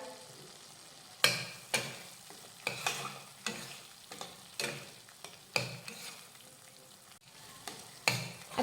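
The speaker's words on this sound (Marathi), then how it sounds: "मंद आचेवर साधारण दोन मिनटं हे मसाले व्यवस्थित शिजवून घेऊयात" Spice masala for Khandeshi shev bhaji cooking in a pan over low heat, with a soft constant sizzle broken by repeated scraping stirs of a spoon, close and with no voices.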